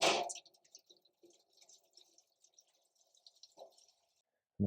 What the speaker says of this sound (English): I'm going to put a water pan down in here. I'll fill this up with water.